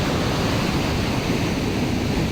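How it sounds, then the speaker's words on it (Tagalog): A strong, continuous roar of surf fills the air, broad rushing noise like heavy waves breaking nearby on a beach, with no voices. "Kaya ngayon ay malakas nga yung alon at walang pinapayagan na lumangoy."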